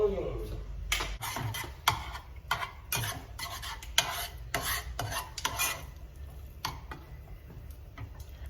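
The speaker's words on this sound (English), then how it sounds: "you better start mixing it because the flour gonna burn" Flour being stirred into melted butter in a pan on the stove, a steady scraping and rasping of the spoon with soft sizzling underneath and talk over the top.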